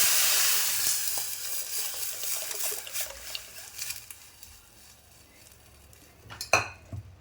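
Cooked dal poured into a spicy sambar tempering in a pan, with a soft sizzle and stirring through most of the stretch, fading quieter, then a short sharp clatter of a utensil against the pot near the end.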